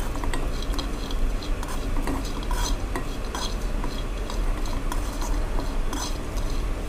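Tengra fish bait frying in a pan is stirred steadily, with a spoon scraping and clinking against the metal over a continuous sizzle, close and even throughout with no talking.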